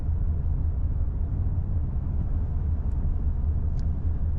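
A 2025 Ram 2500 Cummins diesel truck pulling at three-quarter throttle and downshifting, heard from inside as a steady low engine drone and road rumble, loud and continuous with no speech.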